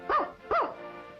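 A cartoon character imitates a dog with two quick, rising-and-falling barks close up, voiced by a person.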